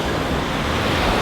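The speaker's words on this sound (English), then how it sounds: "Now this is a nice beach, yeah?" Surf on an empty sandy beach in Sumba rushes in a steady, broad wash of breaking waves with some wind buffeting the microphone, constant and fairly loud, with no voices.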